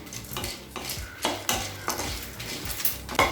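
Dried red chillies, including Kashmiri chillies, are stirred slowly in a pan for chana dal chutney, with repeated scraping clinks of a spatula on metal over a faint sizzle, up close and with no talking.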